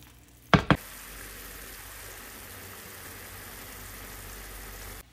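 In a hot pan, a pan sauce for chicken breast simmers and reduces with a soft, steady sizzling hiss. Two loud clanks near the start sound like metal knocking against the pan.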